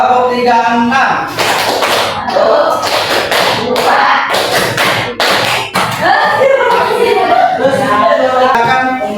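A school class performs the Tepuk 36 clapping routine, sharp hand claps and slaps in patterned bursts while children's voices chant along loudly and close by.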